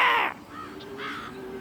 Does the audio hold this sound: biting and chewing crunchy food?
no